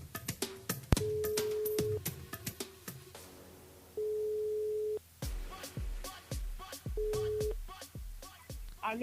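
Telephone line tones on a radio call-in broadcast, steady beeps repeating between clicks and brief sounds, fairly quiet.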